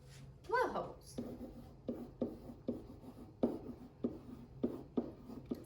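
Handwriting on paper during a reading lesson, heard as a series of close, rhythmic scratchy pen or pencil strokes, with a brief voice at the start.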